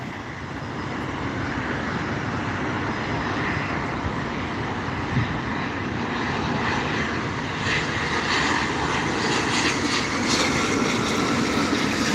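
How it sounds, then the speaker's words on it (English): An aircraft landing at SNA airport, a loud continuous engine roar and rushing rumble that holds steady for the whole stretch. "Enjoy this beautiful aircraft landing."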